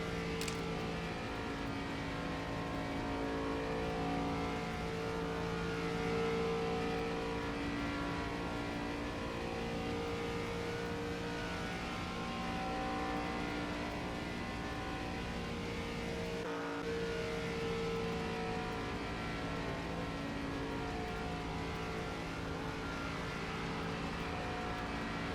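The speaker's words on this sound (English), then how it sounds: "listen to these beautiful V8s running around Michigan International Speedway" V8 stock cars lap Michigan International Speedway in the NASCAR 25 video game, a continuous, fairly faint engine drone with steady tonal hum and no talking.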